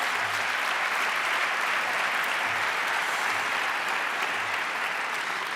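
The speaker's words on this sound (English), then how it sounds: "give yourselves a very big round of applause" Audience applause at a periodontology congress closing ceremony, a dense, sustained clapping from a large crowd, steady and loud throughout with no speech.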